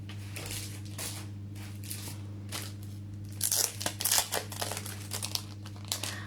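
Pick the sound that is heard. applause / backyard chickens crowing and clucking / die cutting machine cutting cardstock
die cutting machine cutting cardstock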